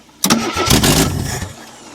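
A 1974 AMC Javelin, long abandoned among trees, cranks briefly and fires right off, its engine catching with a loud burst and settling into a rough idle, heard up close with no talking.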